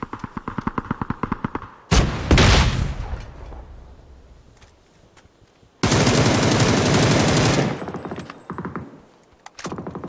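Video game gunfire from a shooter match: a rapid automatic burst, then heavy booming shots and a long loud sustained volley, with a final short burst at the end, close and harsh with decaying echoes between.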